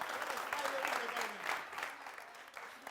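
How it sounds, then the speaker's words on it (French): Studio audience applauding on a televised game show, steady clapping through the whole stretch with a faint voice or crowd murmur underneath. "Applaudissements"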